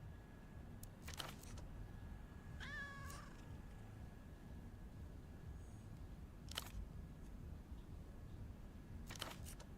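A purebred cat in the video game Zero Parades: For Dead Spies gives one clear, rising-then-falling meow over a low ambient hum, with faint clicks scattered around it.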